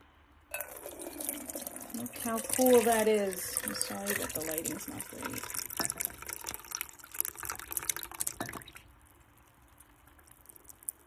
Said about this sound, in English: I'm gonna start pouring them in here